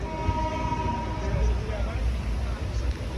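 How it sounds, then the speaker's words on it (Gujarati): Passenger train setting off from a station, a steady low rumble and hum of the moving carriage heard from inside, continuous and fairly loud with faint background voices. "ટ્રેન પણ ચાલુ થઈ ગઈ છે."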